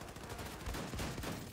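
Dense, rapid gunfire from shotguns and submachine guns in the video game Wolfenstein: The New Colossus, a continuous barrage of overlapping shots filling the short stretch at a fairly low level.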